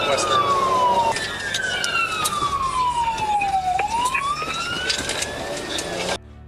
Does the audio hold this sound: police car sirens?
yes